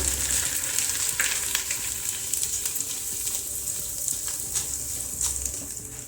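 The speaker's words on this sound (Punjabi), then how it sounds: "ਛੋਟੇ ਛੋਟੇ ਫੁੱਲਵੜੀਆਂ ਦੇ ਪਾਪੜ ਹੁੰਦੇ ਮੈਂ ਉਹਨਾਂ ਨੂੰ ਇਹਦੇ ਵਿੱਚ ਐਡ ਕਰਾਂਗੀ ਆਪਾਂ ਥੋੜੇ ਥੋੜੇ ਕਰਕੇ ਤਲ ਲਵਾਂਗੇ" Small flower-shaped papads for namkeen bhujiya fry in hot oil in a batch, giving a steady, close, dense sizzle throughout, with faint stirring clicks and no voices.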